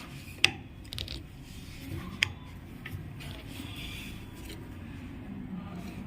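The looper screw of an overlock sewing machine being loosened with a screwdriver, giving a few sharp metallic clicks and quiet scraping over a faint steady background.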